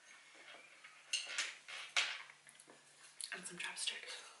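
Wooden cutlery set with spoon and fork being handled close up, quiet scattered clicks and light knocks of wood, with a soft rustle, no talk heard.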